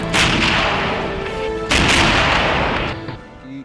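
A Bofors 155 mm artillery gun fires two loud booming rounds about a second and a half apart, each with a long rumbling roll that fades slowly. No voices are heard.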